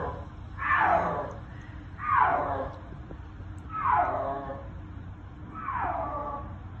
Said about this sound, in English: The snow leopard's main call is described as a piercing yowl